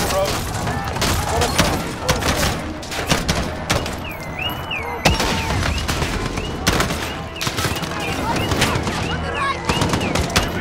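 Dense gunfire rattles through a Call of Duty: Modern Warfare 2019 embassy firefight, loud overlapping bursts and single shots with occasional thumps, while voices shout orders underneath.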